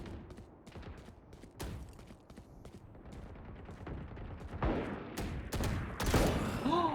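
Shotgun blasts in a first-person shooter game, a run of sharp close shots with a few clustered bursts, the loudest near the end, over background game noise.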